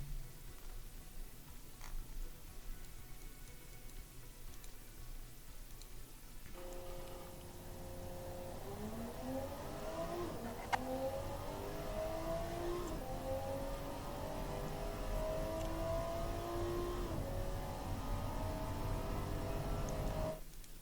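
A virtual upper middle-class saloon with a 2.5 liter naturally aspirated inline-six, 175 horsepower, accelerating down a quarter mile in Automation: a faint, distant engine note climbs in pitch in repeated steps as it works through the gears.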